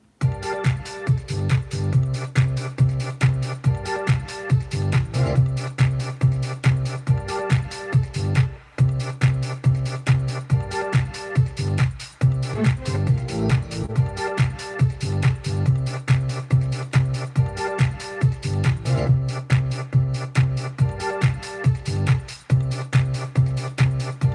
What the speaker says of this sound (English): The sped up chopped version sounds like